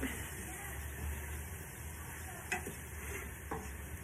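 Seasonings and ground ginger stirred into a turmeric butternut squash soup in a pot: a steady, soft scraping swirl with a faint sizzle underneath and a couple of light clicks against the pot.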